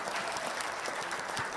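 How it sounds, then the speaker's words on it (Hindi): A studio audience at a televised debate show claps in a continuous burst of applause, a dense and even wash of hand claps filling the space for under two seconds. "ताली बजाओ।"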